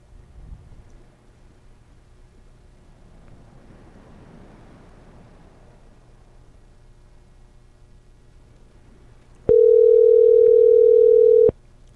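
A telephone call tone sounds while a call is being placed, one steady loud beep lasting about two seconds near the end after a stretch of faint background hiss.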